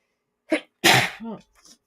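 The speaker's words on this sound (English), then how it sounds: "I didn't mean to sneeze in y'all's ear." A single sharp sneeze, preceded by a short inhaling catch and followed by a faint breathy trailing sound.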